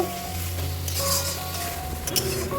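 Amritsari chicken masala being stirred in a hot pan with yogurt and tomato, giving a steady sizzle with the clink and scrape of a spoon against the metal, up close.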